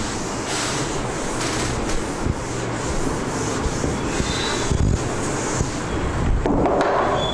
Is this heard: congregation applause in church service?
no